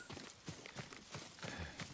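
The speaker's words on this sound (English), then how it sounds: "So her horse is here." Horse hooves clip-clop at a walking pace in Ghost of Tsushima, a quiet, regular series of soft thuds heard alone, close by, with no talk over them.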